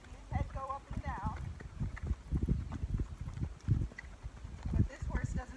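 Hooves of a gaited horse clip-clopping at a steady, quickening pace, close and moderately loud, with a person talking over them.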